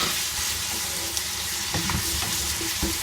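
Ham and melon are stir-fried in a pan, with a loud, continuous sizzle and bursts of spatula scraping and tossing, close up with no voices.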